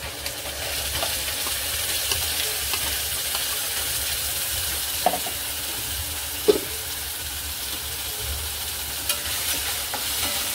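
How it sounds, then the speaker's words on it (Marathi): Garlicky Schezwan chutney with chilli paste, pepper powder and tomato sauce is stirred in a hot pan, giving a steady close sizzle and hiss with a few soft scraping knocks from the spoon. "आता ह्या चटणीला नाही तेल सुटेपर्यंत आपण असं हलवत राहायचंय"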